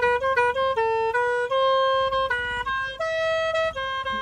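A switch-operated musical horn on a motorcycle plays a loud, close melody of stepped, sustained notes that shift pitch every half second or so, running unbroken for about four seconds with no talk.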